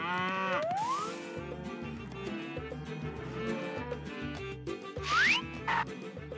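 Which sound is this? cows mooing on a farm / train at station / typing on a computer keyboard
cows mooing on a farm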